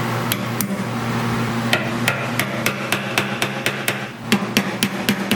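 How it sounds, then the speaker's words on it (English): A hammer tapping a screwdriver to lock a fuel tank part into place on a Camaro, a rapid series of sharp metallic taps over a steady background hum, close and distinct. "With a hammer and a screwdriver, you gotta lock it in."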